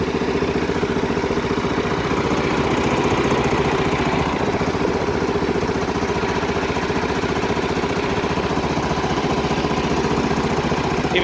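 A 1969 Sears SS12 Diesel Suburban 12 garden tractor engine runs loud and close, a steady rough chugging drone that holds an even pulse throughout with no talking.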